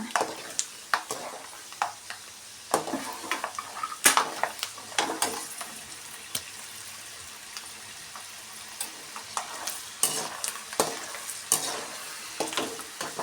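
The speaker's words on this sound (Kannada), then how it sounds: "ಮೀಡಿಯಮ್ ಫ್ಲೇಮ್ ಇಟ್ಕೊಂಡು ನಾವು ಫ್ರೈ ಮಾಡ್ಕೊಳ್ಳೋಣ ಕಡಲೆ ಬೀಜನ" Peanuts fry on medium flame in oil for Melukote Iyengar-style puliyogare, with a soft continuous sizzle under repeated scraping and stirring clinks from a spoon in the pan.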